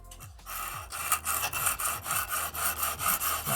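A cheap bushcraft knife stroked repeatedly across a sharpening stone, making a steady rhythm of close, rasping scrapes, roughly three per second, with no talk.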